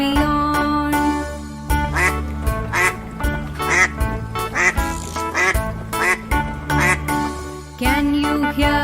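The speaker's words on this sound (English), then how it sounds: "Quack quack says the duck in the pond." A duck on a pond quacks repeatedly in a bright, rhythmic pattern, set against a cheerful children's music backing.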